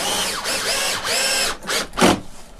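A screw is power-driven through a mounting hole into a window frame to hang a soft-fold Roman shade: loud close whirring bursts with short pauses between them, rising in pitch as the screw seats.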